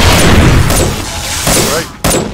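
Loud bursts of gunfire during a zombie horde fight at night in 7 Days to Die, repeated rapid shots with brief gaps between bursts, with some voice activity mixed in.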